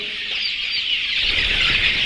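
Aseel native chickens cluck and crow at a farm, with several birds calling close by over a continuous murmur of the flock and a low rumble building toward the end.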